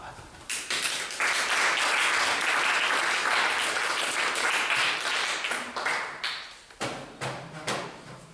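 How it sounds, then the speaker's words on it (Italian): An audience at a young illusionist's stage show in Jesolo breaks into loud applause that swells and holds, then fades into a few scattered claps and thumps, with brief talk at the end. "Un applauso di guarda."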